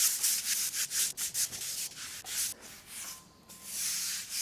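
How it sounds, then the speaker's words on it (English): A stiff-bristle scrub brush works across outdoor porcelain tile with a mild cleaner, making steady close rasping strokes in a loose rhythm, with a brief pause near the end before the scrubbing resumes. "just got a stiff bristle scrub brush, and I'm just gonna kind of move it around evenly."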